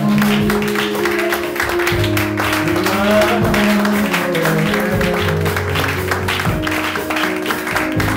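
An audience at a worship gathering claps steadily, broad applause blended with music and voices, sustained and fairly loud for the whole stretch.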